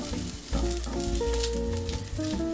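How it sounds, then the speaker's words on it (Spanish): Garlic browning in a frying pan in a teaspoon of corn oil gives a steady, bright sizzle that runs continuously beneath louder tonal background music. "Vamos a dorar un poquito estos ajitos."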